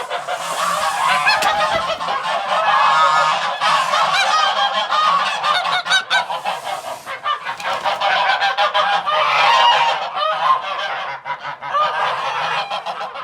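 Farm geese honk loudly and continuously near the recorder, many overlapping harsh calls in dense irregular bursts with no gaps, while hens gather around nesting and laying eggs.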